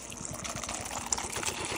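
Coke poured over crushed Sonic ice in a cup, a close, continuous fizzing trickle with small crackles and splashes across the short stretch.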